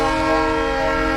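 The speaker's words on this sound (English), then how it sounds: "I don't wanna wait for this train to come through town." Sustained train horn from a train coming through town in Polanco, Mexico City, a loud steady multi-tone blast held throughout, heard outdoors on a street with no voices.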